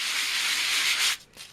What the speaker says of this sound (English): I'm going to take my sand it gadget here and just sand over that